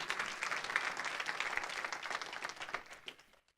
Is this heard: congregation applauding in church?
yes